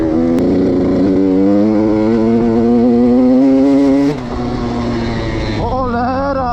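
A KTM SX 85 two-stroke dirt bike engine runs cold with a steady, buzzy drone that holds level, dips in pitch around the four-second mark and then rises again as the throttle is blipped, loud and close throughout.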